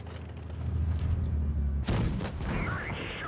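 A tank cannon fires once in World of Tanks Blitz on a 60TP Lewandowskiego, a sharp loud blast cutting through a low engine rumble, followed by a brief rolling tail.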